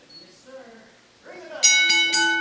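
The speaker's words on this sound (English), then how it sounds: "Ref Dennis calling for the bell." At a pro wrestling show, a ring bell clangs twice in quick succession with a bright, ringing metallic tone that sustains, following a stretch of faint crowd murmur and a voice.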